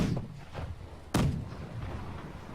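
A single heavy ship cannon blast from a broadside in the pirate naval game Blackwake, a loud close thump about midway, with fainter booms and rumble before and after.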